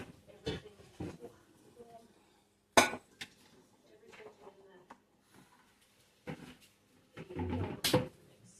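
A large Dutch oven pot pulled out in a home kitchen, giving a few sharp metallic clanks and knocks with scattered rummaging thuds between them, and a person speaking briefly in between.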